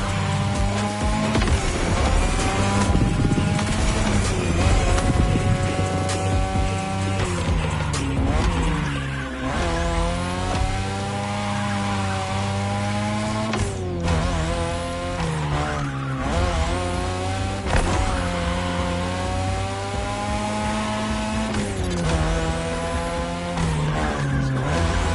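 Race cars in The Crew Motorfest scream through a downhill run, engines revving up and down with repeated long tire squeals and skids, loud and continuous throughout with no talking.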